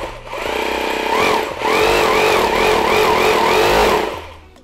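A corded concrete hammer drill, offered in 100V and 220V versions and switched to its concrete hammer-drilling mode, whines loudly and steadily for about four seconds with a brief dip partway through, then stops.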